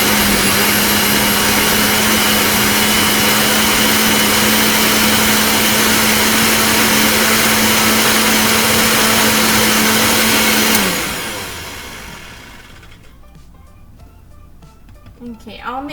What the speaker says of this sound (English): we'll just blend it in for a couple of minutes until all our fruit is all blended in